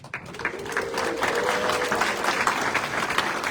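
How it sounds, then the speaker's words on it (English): An audience at a local awards ceremony bursts into sustained, fairly loud applause that swells after a brief start and keeps going steadily, with some crowd noise mixed in. "you can totally cheer as we go through this"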